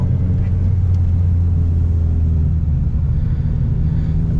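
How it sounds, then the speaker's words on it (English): A manual-transmission car accelerating in second gear after a clutch shift, with a loud, steady engine rumble and drone heard from inside the cabin. "put the clutch in and throw it to second"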